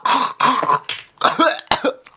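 A person coughs and hacks repeatedly in harsh, choking bursts, close and loud, struggling to dislodge a chicken bone stuck in the throat.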